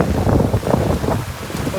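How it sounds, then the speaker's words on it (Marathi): Strong gusting wind roars steadily across the microphone, with a broad rushing noise of heavy rain; a voice is faintly mixed in. "ना पाऊस आणि वारा आहे ना लय सुटलाय"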